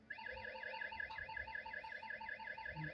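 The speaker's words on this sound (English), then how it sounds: "Combustible gas release." Combustible gas release alarm at an industrial hazard site: a rapid warbling electronic tone that rises and falls several times per second, steady and continuous, alone without talk.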